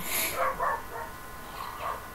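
A dog barks several times in short, muffled yips, two quick barks close together followed by a softer pair a moment later, fairly near but not loud, with no talking over it.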